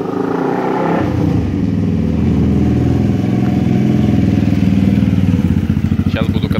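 Motorcycle with a manual gearbox being ridden on Samui, its engine humming steadily at close range and rising slightly in revs, with some clatter and a brief bright rattle near the end.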